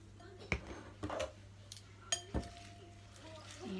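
Kale chips coated in nutritional yeast are stirred in a bowl, giving a few sharp clinks and soft scrapes at irregular intervals against a quiet background.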